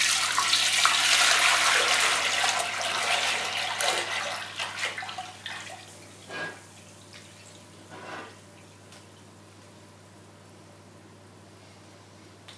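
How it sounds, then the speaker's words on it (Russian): Sugar syrup for a sugar mash pours into a fermentation vessel in a steady, close liquid splash that tapers off after about six seconds, followed by a couple of brief trickles and near silence. "Переливаем сироп."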